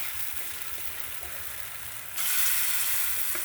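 Banana fritters (pazhampori) dropped into hot coconut oil hiss with a steady broadband sizzle that suddenly grows louder and brighter partway through, close and continuous with no talking.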